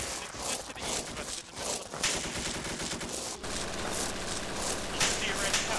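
Sustained machine gun fire in the WWII combat game ShackTac I44, dense and continuous bursts of gunfire filling the scene at moderate distance, with scattered shots layered over one another.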